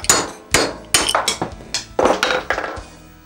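Seven or eight sharp metallic strikes from a hammer driving a punch to knock a part out of its socket on a Jeep Wrangler during a manual transmission fluid change, landing in an uneven, close, loud rhythm.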